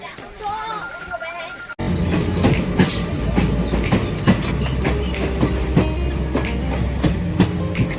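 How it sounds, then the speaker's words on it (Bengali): A passenger train on the Agartala–Kanchanpur line pulls into Ambassa station, starting with quieter in-carriage sound and high squealing tones, then a sudden loud rumble with rhythmic clickety-clack wheel beats and a background babble of voices. "আমরা এখন আমবাসা স্টেশনে ঢুকলাম"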